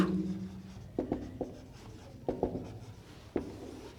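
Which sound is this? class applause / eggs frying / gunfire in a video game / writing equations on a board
writing equations on a board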